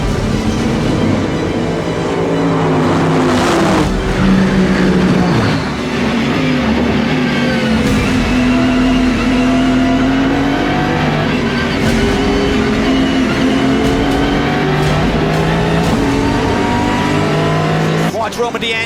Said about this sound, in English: Here come the DPI cars.